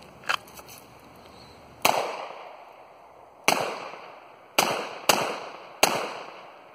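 Six sharp gunshots from an LCR revolver fired by a shooter wearing gloves in cold weather, irregularly spaced with a long gap after the first and then quicker follow-up shots, each with a brief ringing tail.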